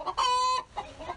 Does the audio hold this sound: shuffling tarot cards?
no